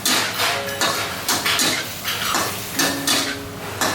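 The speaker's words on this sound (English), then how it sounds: "or you give a stir like this" Pad Thai noodles with shrimp and sauce stirred in a pan, loud close rhythmic scraping and clanking of a utensil against the metal roughly every half second over a sizzling background.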